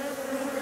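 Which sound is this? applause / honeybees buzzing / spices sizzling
honeybees buzzing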